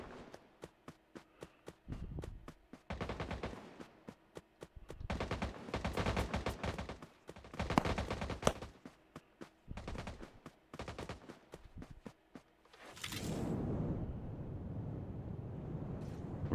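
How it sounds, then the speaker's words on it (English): Gunshots crack out in sharp single reports and short rapid bursts, with pauses between the volleys, followed near the end by a louder, sustained rumbling blast. "Somebody want to do a little shooting?"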